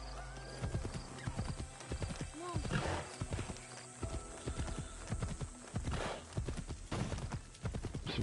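Horse hooves clip-clopping at a steady walk across a bridge in Assassin's Creed Shadows, close and rhythmic, with a brief whinny and a voice talking over the steps.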